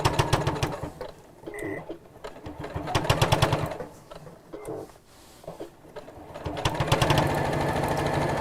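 A sewing machine stitches down the back of a piece close to the edge, running steadily in several rattling bursts with short pauses between them. It sounds close and fairly loud.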